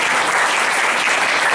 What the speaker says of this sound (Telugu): ఆయనకి మహిమ కలుగును గాక చప్పట్లు కొట్టి